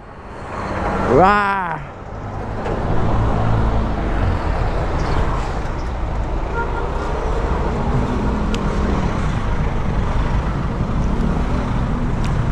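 A large truck rumbling past on a road, a heavy low engine roar with wind noise that builds and holds, while a man calls out briefly at the start and people talk nearby.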